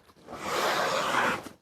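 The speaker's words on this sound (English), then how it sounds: "There's a zipper right here." A zipper being pulled open on a Clam Shuttle ice fishing bag, one smooth continuous rasp lasting about a second, close and alone.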